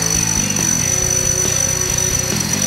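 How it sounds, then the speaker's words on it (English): A power drill enlarges a hole in a Yamaha MT-09 motorcycle frame, a close whirring, chattering grind that stops and restarts in short bursts, with a thin high whine over it. "But we'll drill the hole out."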